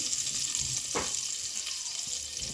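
Eggs frying in a pot of oil for egg biryani give a steady, close hiss of sizzling with a brief clatter about a second in.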